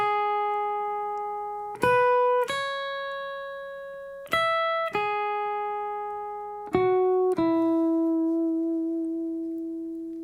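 Electric guitar picking a chorus-line variation on the high strings at full tempo, with a few clean sustained notes changing every second or so and ringing out alone, while the tuner-like steady tones decay evenly.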